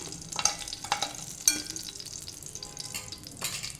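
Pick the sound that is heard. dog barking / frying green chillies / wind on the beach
frying green chillies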